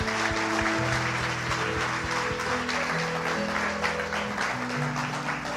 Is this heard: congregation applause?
yes